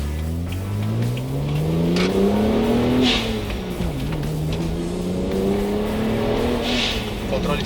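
A rear-wheel-drive BMW 1M with an Akrapovic exhaust and active intake accelerates hard, its rear sliding through a corner. The engine note climbs steadily up close, dips briefly as the driver lifts, then pulls again, loud and continuous.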